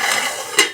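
A lid is set onto a cooking pot of raw mango chutney, giving a brief close metallic clatter with a short clink right after it.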